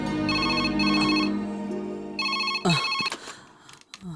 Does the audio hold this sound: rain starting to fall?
no